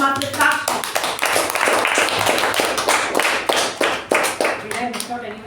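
A small meeting crowd at a Toastmasters club claps for the Toastmaster of the day, with distinct individual hand claps in a close, uneven patter and voices speaking over parts of it.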